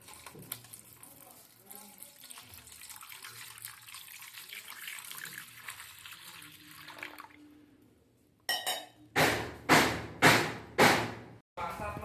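Water is poured over a Shiva idol during a home puja, first as a quiet trickle, then in about five loud, splashing pours in quick succession.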